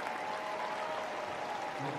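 A stadium crowd applauds and cheers at the World Para Athletics Championships in London after a British gold medal win, a steady, dense wash of clapping and roar heard from a distance.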